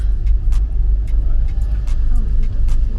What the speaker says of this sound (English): Which car wanna overtake you?